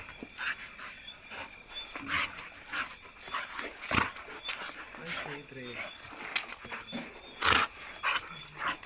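Dogs play-fighting nearby, with scattered short growls, snarls and snaps over a steady background of chirping insects, fairly quiet overall.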